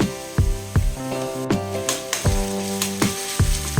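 Ginger garlic paste sizzles and fries in a hot pan, a steady close hiss punctuated by sharp, regular clicks and scrapes of a spoon stirring.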